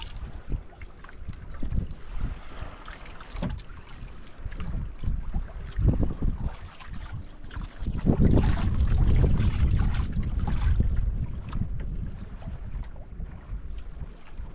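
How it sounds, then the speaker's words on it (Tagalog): The northeast amihan wind blows over a small fishing boat at sea, making rough buffeting gusts that build into a loud, sustained rush of wind noise partway through, with thumps and sloshes from the hull. "Amihan na. May amihan paghapon."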